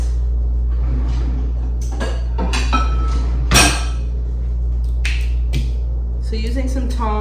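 Tongs lift roasted corn off a metal baking sheet fresh from the oven, giving a few scattered clinks and scrapes over a steady low hum in a home kitchen.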